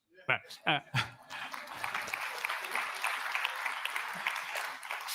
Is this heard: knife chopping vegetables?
no